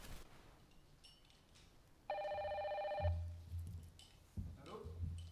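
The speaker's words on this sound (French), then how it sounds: "Allô? Allô, Pierre, c'est Marie-Élisabeth à l'appareil." A telephone rings once on stage during a theatre play, a single bright electronic ring followed by a handset being picked up with low thumps and rustling.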